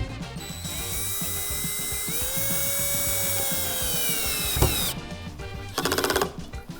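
Dnipro-M CD-218 cordless drill driver on first speed and lowest clutch setting runs a screw into wood with a steady close whine that dips under load, then stops, followed by a brief rapid ratcheting burst.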